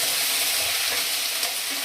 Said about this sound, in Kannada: ಇದನ್ನ ಒಂದು ನಿಮಿಷ ಫ್ರೈ ಮಾಡಿಬಿಟ್ಟು ಸ್ಟವ್ನ ಆಫ್ ಮಾಡ್ಕೊಳ್ಳೋಣ